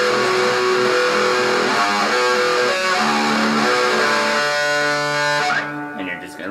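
Electric guitar plays the full verse riff of a song, with steady, dense, distorted strummed chords that run loud and continuous before cutting off near the end.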